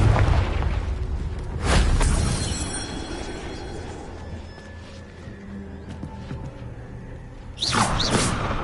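A Confringo spell explosion in the video game Hogwarts Legacy, with a booming burst at the start and another near the end over a low rumbling game ambience.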